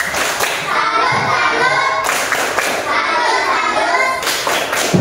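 A group of students in a classroom doing a rhythmic salute clap routine, bursts of clapping with chanting children's voices, close and loud.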